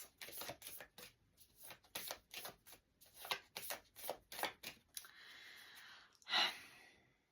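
Playing cards shuffled by hand indoors, a quick run of crisp riffling bursts followed by a softer sliding rustle and one sharp final snap, close and alone with no talking.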